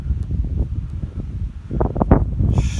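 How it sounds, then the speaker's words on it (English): Strong wind at a remote lakeside camp on the northern Llyn Peninsula in Wales, buffeting the microphone with a steady low rumble and gusty surges. No voices are heard. "Wind's hacking."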